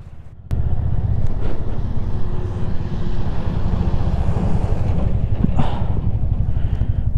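A Yamaha MT motorcycle slides and skids through heavy snowfall as constant wind buffets the microphone, producing a loud, steady low roar that starts abruptly after a brief quieter moment.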